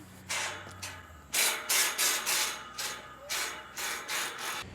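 Ratchet straps being handled and clipped onto yellow tarp straps for a heavy ShelterLogic SP Series shelter tarp, a run of close rubbing, scraping bursts with brief pauses between them.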